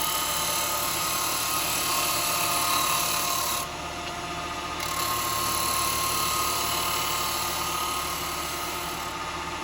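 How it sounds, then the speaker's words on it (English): A piece of wood spins on a lathe while a 9mm box hollower chisel cuts it, producing a continuous droning rasp that runs steadily throughout with only a slight dip midway. "It's just a 9mm box hollower. Brilliant little chisel this."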